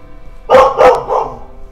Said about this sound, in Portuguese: minha cachorra não para de latir